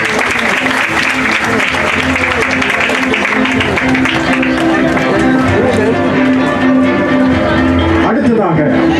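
Dense, loud applause from a large audience at a national Independence Day ceremony in Batticaloa, sustained clapping throughout with crowd murmur and voices mixed underneath.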